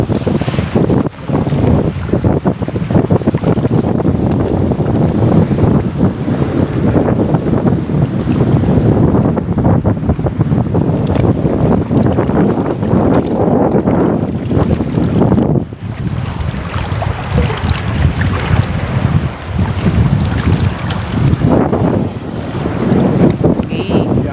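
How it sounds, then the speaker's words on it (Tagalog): Large waves slam against a small fishing boat at sea while strong wind buffets the microphone, a loud, continuous roar of surging water and gusts with repeated heavier crashes. "Dahil sinasalpon ko ng malalaking alon"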